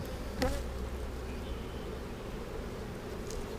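Bees hum around the brood boxes of a beehive, a soft, steady buzz that carries on throughout with a brief louder pass near the start.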